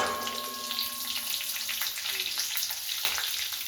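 Curry leaves and green chillies sizzle steadily in hot oil for a keerai palya, a continuous close frying hiss with faint stirring and no talk.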